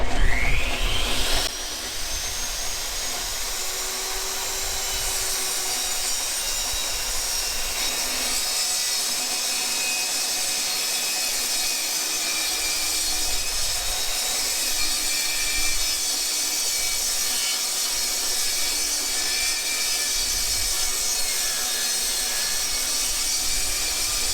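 Table saw ripping through wood during a sawdust collection test, a Ridgid or Kobalt saw running with a steady high whine and broad rasping noise held at an even level for over twenty seconds, no talk.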